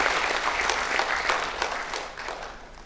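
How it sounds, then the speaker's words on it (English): An audience applauds steadily at a school felicitation day, a dense wash of clapping that fades slightly toward the end. "Could we please have a round of applause, ladies and gentlemen?"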